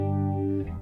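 A brief sustained guitar tone through an HX Stomp preset with a swirling, shimmering phaser and chorus effect, wavering slightly before it fades.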